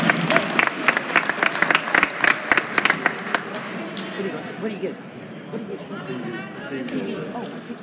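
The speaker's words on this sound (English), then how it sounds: "How about a round of applause for George King?" Crowd at a men's college basketball game applauding George King, with sharp, loud individual claps up close over the first few seconds, then fading into chatter and voices of people talking nearby.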